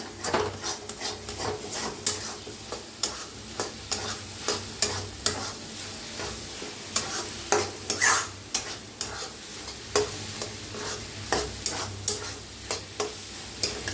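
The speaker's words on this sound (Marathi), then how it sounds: "छान अशी अंडी भाजून घ्या" Eggs for fried rice frying in a pan, a continuous sizzle under a regular rhythm of spatula strokes scraping and tapping against the pan, close and fairly loud throughout.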